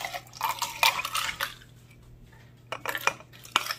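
Ice cubes dropped into a glass of lemon cucumber juice, a few bursts of bright clinks and clatters with a short pause between them, close and crisp.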